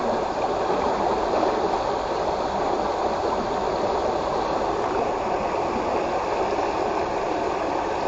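Fast-flowing water on the Semenyih river rushes in a dense, constant roar, loud and close with no pauses.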